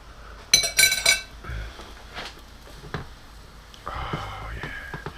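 A metal spoon clinks against a bowl in a few quick bright strikes, followed by softer scraping and handling sounds at close range.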